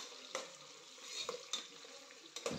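Onions and green chillies frying toward brown in a pan, giving a quiet, steady sizzle with a few brief clicks of stirring, faint and with no speech.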